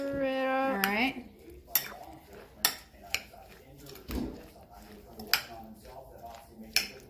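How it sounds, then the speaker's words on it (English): Chopped salad being stirred in a bowl for a makluba meal, with sharp utensil clinks and scrapes against the dish recurring every second or so, close and clear over low kitchen rumble; a brief voice at the start. "Stir it up."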